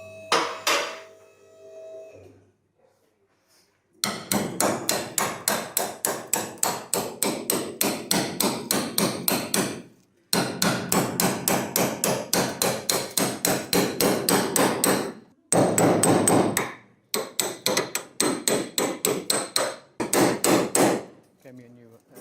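A hammer pounds a badly rusted Mitsubishi FTO body panel in long runs of rapid, loud metallic blows. Brief pauses separate the bursts.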